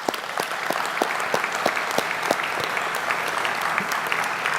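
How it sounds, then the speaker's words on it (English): A convocation audience applauds steadily, many hands clapping in a brisk, even rhythm with distinct sharp claps popping out above the crowd, no voices over it. "Let's give her a big round of applause."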